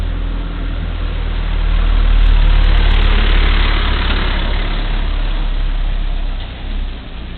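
A new commuter motorcycle engine idles close by, a loud, steady low rumble that swells slightly in the middle and holds without talk.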